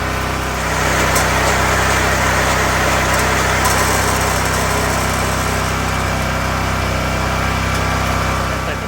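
A 20-inch California Trimmer RL20H reel mower's small engine runs steadily at full throttle, a constant loud drone held evenly throughout with no change in pitch.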